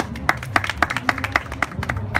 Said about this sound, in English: So another chance for Mr. Yusuf, please give him a clap.